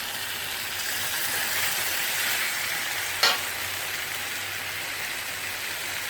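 Bay leaves, lime leaves, crushed lemongrass and crushed galangal fry in a pan for a yellow young jackfruit curry, giving a loud, steady sizzle from start to finish with one brief stir.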